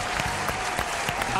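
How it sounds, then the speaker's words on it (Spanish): A studio audience claps for a series production team on a talk show, a short burst of brisk, close applause with a few sharper individual claps standing out. "un aplauso para todos"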